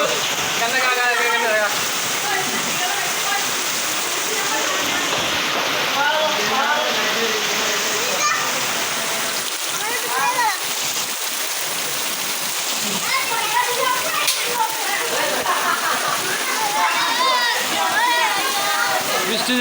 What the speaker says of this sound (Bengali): বৃষ্টির দিন